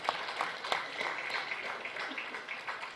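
A roomful of people applauds for the board and director at the Uganda malaria survey report launch, a steady wash of many hands clapping at moderate distance with no break.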